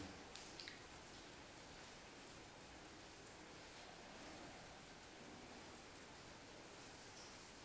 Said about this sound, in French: Alors, j'entends la pluie.